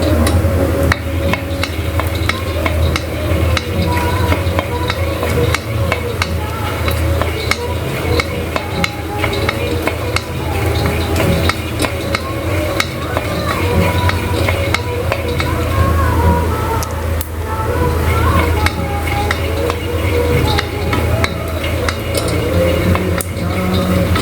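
Groundnuts fry in ghee in a pan with a dense, continuous crackle and rattle, steady and close throughout, with sharp ticks and clatter scattered over it.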